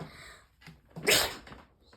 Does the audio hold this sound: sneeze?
yes